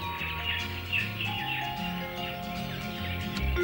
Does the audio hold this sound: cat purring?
no